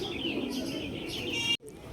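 Pet pigeons coo and chirp close by, a steady low murmuring layered with brief higher calls, cut off by a short gap near the end before resuming.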